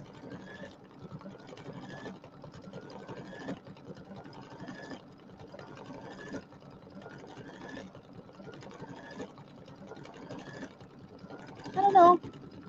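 An embroidery machine stitching a satin-stitch pumpkin runs in a quiet, rhythmic mechanical pulse, repeating roughly every second and a half throughout, with a short louder clatter near the end.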